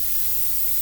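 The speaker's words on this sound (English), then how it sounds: "spray it over the sink." A short, steady hiss of baking spray from a can, sprayed over a kitchen sink for cake pans, loud and continuous for under a second.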